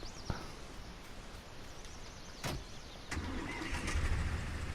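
A tractor engine in a farming video game starts up: a sharp clunk, then a steady low rumble kicks in and grows slightly louder, running alone over faint ambient background noise.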